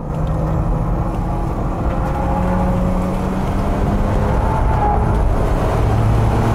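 A car fitted with a GT wing drives hard around a racing circuit, its engine a loud, sustained drone with steady tonal whine heard close from onboard, no pauses throughout.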